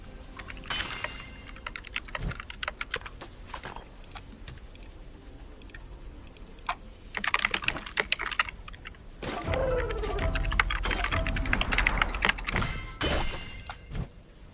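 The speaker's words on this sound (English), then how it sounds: "I just cracked your work. Just from hearing you typing." Fast typing on a computer keyboard comes as dense bursts of clicking keystrokes, close and moderately loud, with short pauses between runs and a heavier flurry near the end.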